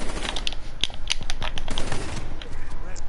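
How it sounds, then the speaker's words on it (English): A shotgun fires in Call of Duty Black Ops 3 multiplayer, with several sharp blasts spaced through the action amid busy gunfire and game noise, and voices talking over it. "Oh my god, the shotgun."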